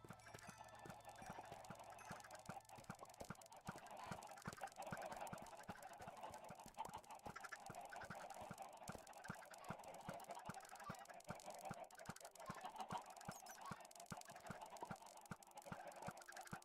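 In Minecraft, eggs are shot rapidly in a chicken farm, making a dense run of quick clicking pops over a steady background hum, with chicken clucks mixed in.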